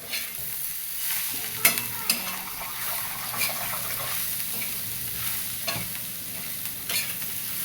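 Onion with salt and chilli frying in a pan for egg bhurji, a steady soft sizzle with occasional spatula scrapes and stirring clatter, close and continuous.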